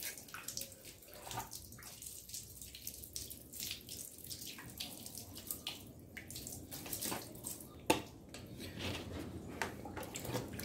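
Tap water runs steadily and loudly onto a motorcycle's rear rack and grab handles, wetting them before the stains are scrubbed off, with splashes and a few sharper spatters throughout.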